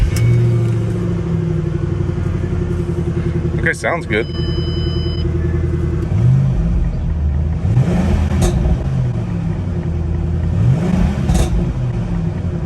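A 2007 Ford Mustang GT V8 idles with a deep, steady rumble up close, rising in a few revs with a burbling runoff as the throttle is blipped, while a person briefly talks over it.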